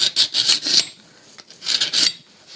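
A kitchen knife is drawn through a handheld knife sharpener in a home kitchen. Close, raspy grinding strokes come in two quick bursts of about four pulls each, separated by a short pause, with no talking.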